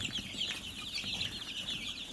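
Chickens clucking softly at a distance, scattered quiet clucks and chirps repeating over a faint background hiss, with no talk.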